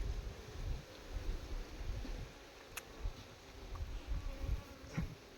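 Honeybees buzz around a hive box as it is cleaned, a low fluttering drone with wind-like rumble that pulses in and out, moderately faint and close, with no talk.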